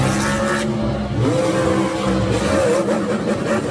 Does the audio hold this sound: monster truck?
yes